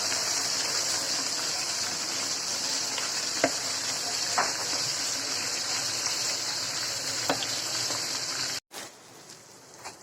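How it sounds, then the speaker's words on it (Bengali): Onion, tomato, bay leaf, cinnamon and cardamom sizzle and fry steadily in a pan for a home-cooked roast dish, a continuous close hiss with a few small pops, ending in a brief break near the end. "পেঁয়াজ, টমাটো, তেজপাতা, দারচিনি, এলাচি সব দেওয়া হয়েছে। ভুনা করতেছি"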